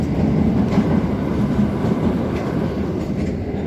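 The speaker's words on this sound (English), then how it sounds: "there's a train going past" A train rolls past close by, its steady low rumble and rattle continuing throughout without any talk over it.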